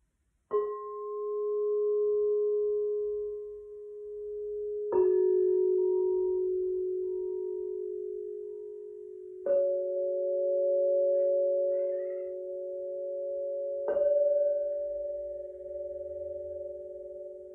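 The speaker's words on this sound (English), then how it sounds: "I'm just gonna play my crystal singing bowls for a moment" Crystal singing bowls struck one after another, four strikes spaced a few seconds apart, each ringing into a pure, sustained tone that overlaps the last and fades slowly, played alone with no talk.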